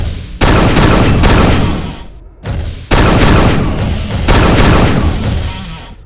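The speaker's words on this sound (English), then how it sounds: "The dispersion pistol doesn't have a whole lot of punch, but it's always there for you because it never runs out of ammo." Dispersion pistol firing in the video game Unreal II, heavy booming energy blasts in two long bursts with a brief gap between them, loud and close.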